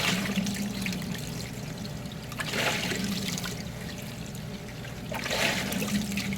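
A Speed Queen top-loading washing machine washes a load of jeans: water sloshes and swishes continuously, with louder surges every few seconds as the agitator turns, and no voices.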